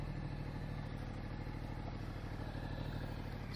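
A Ducati 1200 motorcycle idles close by with a steady, dense engine rumble and a fast rhythmic throb that holds unbroken for the whole stretch, with no talk over it.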